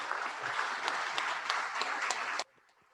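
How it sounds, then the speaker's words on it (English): Audience at a community morning seminar on esports applauding the panel, a dense, fairly distant round of clapping that cuts off abruptly near the end, leaving quiet room tone. "How about a round of applause for our panel today?"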